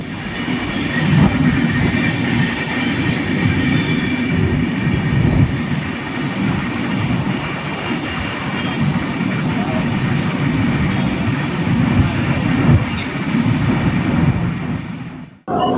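The 16333 Veraval–Thiruvananthapuram Express rumbles along steadily, with loud, continuous wheel and carriage noise and a faint clatter of rails throughout.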